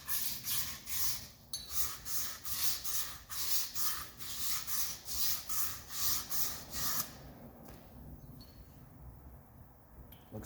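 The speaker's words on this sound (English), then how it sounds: "We're going to kind of scuff that up with some emery cloth." Emery cloth scuffing the seal groove of an axle while setting up 9-inch gears, rhythmic back-and-forth rasping strokes about twice a second, close and steady for seven seconds before stopping, with no talking.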